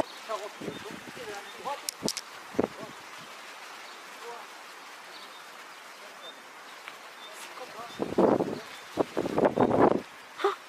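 Outdoor wind at a wedding blows across the microphone as a steady broad rumble and rustle, with stronger gusts near the end and brief voices heard faintly.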